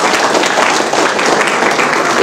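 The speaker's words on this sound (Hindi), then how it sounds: "A big round of applause for yourself." A crowd of students applauds, a brief burst of dense, sustained clapping that fills the space.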